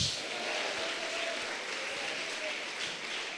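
Church congregation applauding during a Santa Ceia communion service, a steady wash of clapping for several seconds with no pauses.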